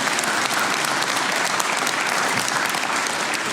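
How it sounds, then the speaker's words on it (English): Audience applause at a Financial Literacy Day speech event on Capitol Hill, a steady, dense clapping from a full room that holds evenly loud throughout, with no voices over it. "you may applaud for that"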